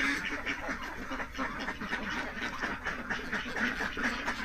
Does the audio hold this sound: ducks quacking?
yes